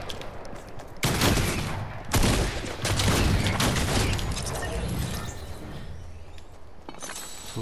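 Rapid bursts of Fortnite gunfire crackling in heavy volleys, starting abruptly after a quiet moment, pausing briefly, then resuming in a dense sustained barrage before trailing off into lighter scattered noise.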